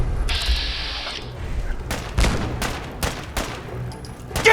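Rapid bursts of video game gunfire crack out one after another in a firefight against raiders in Fallout's Brotherhood of Steel setting, several loud sharp volleys close up with brief gaps between them.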